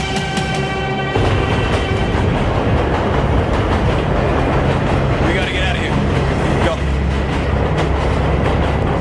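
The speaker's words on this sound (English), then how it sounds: "This is the train!" A train rumbles past nearby, loud and continuous, with rattling wheels and a squeal of brakes, while voices speak over the noise.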